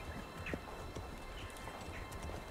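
Horse hooves clip-clop at a walking pace in the medieval city-building game Manor Lords, a soft, even run of hoof strikes over low ambient game background with no talk.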